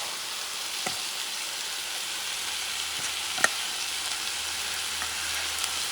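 Rice frying with chuck steak in a hot pan, a steady broad sizzle throughout with a few sharp stirring clicks and scrapes, no talk.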